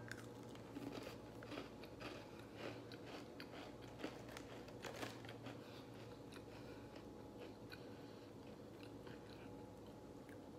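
Someone bites into homemade walnut rye cakes and then chews them up close, with crisp crunches followed by repeated crumbly chewing over a steady low hum.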